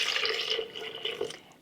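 Water pours into a blender jar for a nutritional yeast recipe, a steady close splashing trickle that runs continuously for under two seconds and fades slightly at the end, with no talk.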